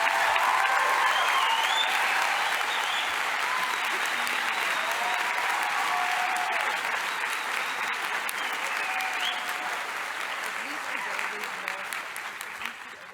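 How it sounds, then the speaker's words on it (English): A large audience at a healthcare sciences declaration ceremony gives sustained, loud applause, a thick steady roar of clapping that gradually tapers off, with scattered voices and faint cheers mixed in. "we should give them a resounding sound of applause"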